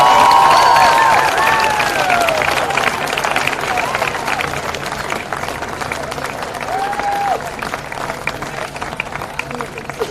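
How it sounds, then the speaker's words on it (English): Sustained applause from a crowd, steady and fairly loud throughout, with a background murmur and a few whistle-like tones near the start. "another round of applause for our runners-up today"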